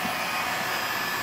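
Heat gun blowing hot air to shrink window tint film on the side glass of a Corvette C8, a steady close airy roar with no speech.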